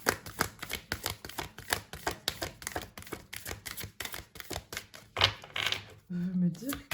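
Oracle cards are shuffled in rhythmic, papery bursts close by, followed by a card being drawn, with a soft voice murmuring near the end.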